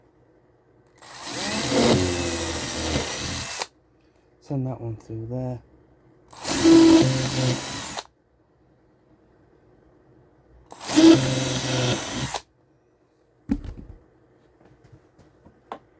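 A power drill with a 2.5 mm bit bores through a model railway baseboard in three loud whirring bursts and a short final one, separated by quiet gaps and brief speech.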